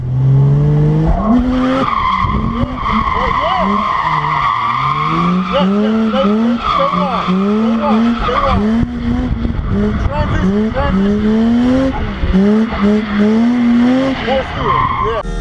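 A 10-year-old drifts a Mazda RX8 at practice, its tires skidding in long, loud squeals over a constant roaring, revving engine, close and continuous throughout, with a voice speaking briefly under the noise.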